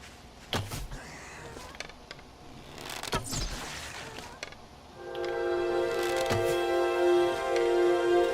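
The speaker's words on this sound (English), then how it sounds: "Okay, that sound is the end of the night." End-of-horde-night sound in the video game 7 Days to Die: a sustained tonal chime swells in and holds steady, following a few scattered knocks and clicks.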